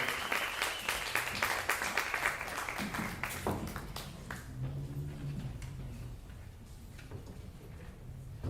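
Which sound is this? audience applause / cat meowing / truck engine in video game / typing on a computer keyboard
audience applause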